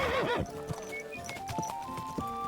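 A horse in the video game Kingdom Come: Deliverance 2 whinnies briefly, then hooves clip-clop in an uneven rhythm, close and clear, with faint musical tones underneath.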